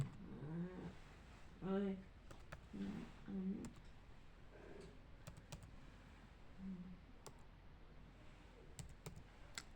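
Numbers are typed on a computer keyboard into MS Excel 2016, producing quiet, scattered key clicks with a person talking softly between them.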